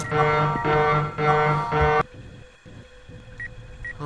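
Electronic alarm in the horror video game Erie blares loudly as a dense, harmonic tone for about two seconds with rhythmic pulsing, then cuts off abruptly, leaving quiet ambience with faint high beeps.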